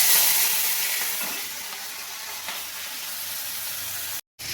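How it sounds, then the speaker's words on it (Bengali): Small mola fish fry in hot white oil in a kadai, giving a steady, close, bright sizzle that fades slightly and cuts out briefly near the end. "এবার আমি মাছটা ভেজে নেব।"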